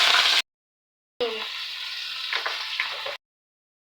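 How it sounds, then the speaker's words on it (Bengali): Cauliflower and other vegetables fry in ghee in a pan, a close, bright sizzle in two bursts separated by silent gaps. "এবার আমরা দিয়ে দেবো ঘি, দিয়ে সবজিগুলো আমরা ভালো করে ভেজে নেব।"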